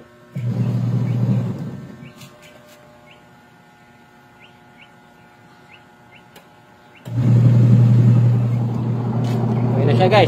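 A washing machine motor and gearbox, fitted during a gearbox replacement, run with a loud steady hum and rumble, drop to a quiet lull for several seconds, then start up again just as strongly.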